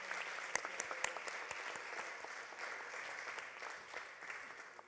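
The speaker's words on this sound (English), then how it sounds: "Let's give them a round of applause" Steady audience applause for student speakers at a school district board meeting, moderately distant and even in intensity, continuing without talk throughout.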